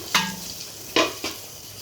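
A fish head frying in a pan, heard as three short sizzling bursts as it is stirred or turned, each fading quickly into quieter background.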